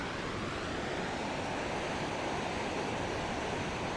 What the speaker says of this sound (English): This is the Yellowstone River as it approaches the upper falls as we saw it in late September of 2025.